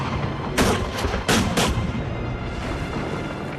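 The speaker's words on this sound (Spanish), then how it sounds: "Mientras que la artillería de Cromwell abría fuego contra las murallas de Drogheda" Artillery firing on the medieval town walls of Drogheda, two or three heavy booming blasts over a loud, rumbling battle din, fading into a steady roar.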